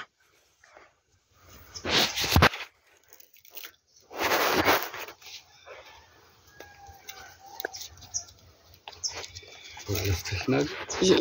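Faint, brief bird chirps are scattered through an outdoor scene, partly masked by louder crunching and handling noises and by bursts of background sound.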